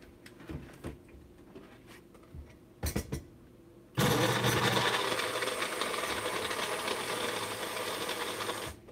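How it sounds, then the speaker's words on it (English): A blender whirring through protein ice cream with berries, starting abruptly after a few quiet knocks and running as a loud, steady motor roar to the end. "I'm gonna blend it up one more time"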